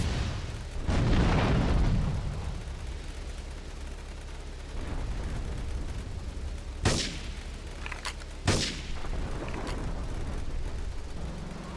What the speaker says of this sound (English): Sometimes a guy can be caught in a vehicle explosion and survive it